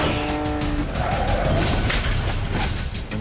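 A car chase from the action movie Safe House, with tires squealing and skidding over a loud, roaring engine. Steady, intense vehicle noise fills the whole stretch without any talking.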